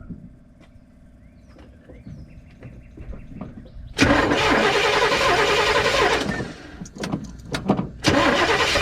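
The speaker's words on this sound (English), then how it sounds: "we're gonna crank it, adjust the timing, adjust the throttle for the idle" A 1985 GMC C25 truck engine cranks with a weak, uneven rhythm for several seconds, then catches and roars loudly. It sputters and dips as it struggles to keep running, then revs up again near the end.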